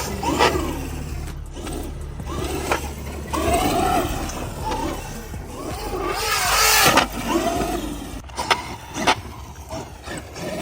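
Traxxas UDR RC truck on paddle tires, its engine revving and roaring in surging bursts that swell and fade, close and loud, with mechanical whine over an outdoor rumble.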